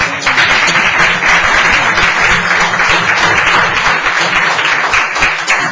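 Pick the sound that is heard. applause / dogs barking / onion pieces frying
applause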